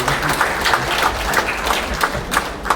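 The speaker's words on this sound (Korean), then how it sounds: "여러분 박수 부탁드립니다." Sustained applause from a seated audience at a book launch for a memoir at the National Assembly Museum, dense steady clapping with scattered sharper claps, fairly close and continuous throughout.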